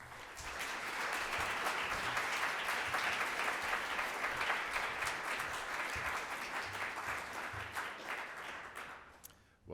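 Steady applause from a lecture audience fills the hall, a dense even patter of many hands holding strong for several seconds before tapering off near the end.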